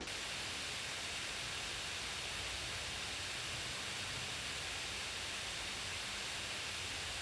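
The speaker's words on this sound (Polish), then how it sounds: "To z kolei odbija się na bardzo mocnym szumie wydobywającym się z korpusu." A Razer Blade 16 (2024) gaming laptop's cooling fans blow with a constant, soft airy whoosh, faint and unchanging from start to finish, with no talking.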